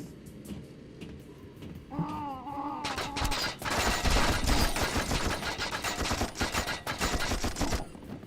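Machine gunners in the shooter game You Are Empty open up in sustained, dense bursts of automatic fire that build after a quieter start and hammer on loudly through most of the stretch.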